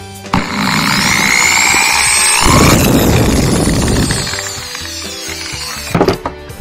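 A hand drill bores a hole through a plastic motorcycle helmet visor, its motor whirring steadily with a harsh grinding burst midway as the bit cuts through, then a few clicks and clatters at the end.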